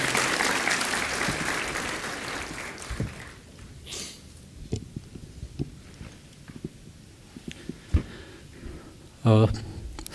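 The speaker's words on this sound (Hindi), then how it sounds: "जोरदार ताली से स्वागत" An audience applauds to welcome a guest, a police inspector general, at an internship training program, with dense clapping at first that thins into scattered claps, along with some crowd noise and a voice.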